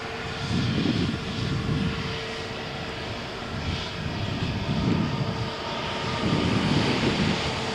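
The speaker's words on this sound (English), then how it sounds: "And takeoff 140 knots." An airliner takes off from runway 13 at Malaga Airport on a stormy morning, its engines a loud sustained roar that rises and surges through the takeoff roll, with no voices.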